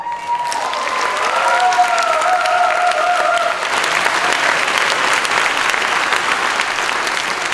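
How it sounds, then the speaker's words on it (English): Audience at a college commencement ceremony breaks into sustained applause, a dense, steady wash of clapping held at full strength throughout, with whoops and cheers rising over it early on. "one final applause for all of those people who have supported you your whole life"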